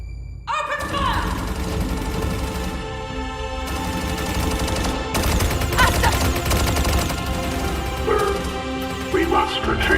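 Dense, sustained gunfire from the video game ZeroSpace, with rapid bursts of shots layered over music and shouted voices, loud and continuous throughout.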